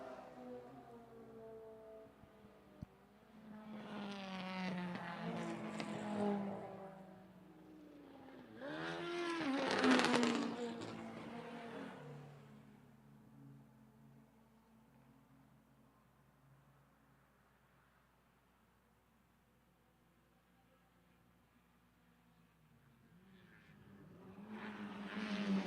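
Race cars passing on the track at Lime Rock Park during a live-streamed race, engines rising and falling as two cars sweep by in turn, the second loudest, then a quieter stretch before another car approaches.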